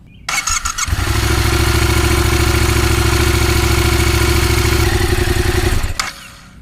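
A Yamaha FZ-07 motorcycle starts after a brief starter whir, then settles into a loud, steady, close-up idle with a rapid even pulse for several seconds before shutting off.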